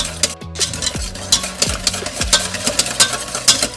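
Whisk scraping and stirring through a thick mac and cheese sauce in a pan, steady rhythmic strokes with soft clinks and a low sizzle, close and fairly loud with no talking.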